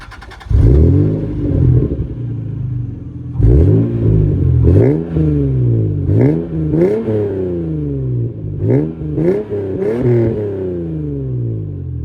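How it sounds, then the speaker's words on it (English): A Toyota Soarer engine with a quad-tip exhaust cranks, catches and settles, then is blipped repeatedly in sharp rising revs with short drops between, loud and close, with no talking. "So we'll start it up and hear how it sounds."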